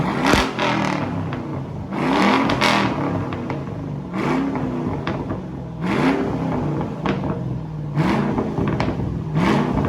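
Loud 2006 Mustang GT engine with an SLP Loud Mouth axle-back exhaust revving hard in repeated bursts, roaring up and dropping back several times with a throaty exhaust rumble close by.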